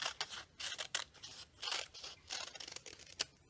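Scissors snip through a doubled sheet of paper book page in a craft project, a series of close, crisp cutting strokes with short pauses between them, no talking.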